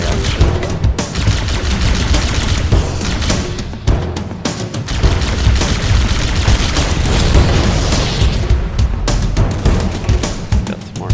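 Chain reaction explosions in Halo: Combat Evolved, a loud dense run of booms and rapid gunfire-like bursts that overlap one another and keep on without pause.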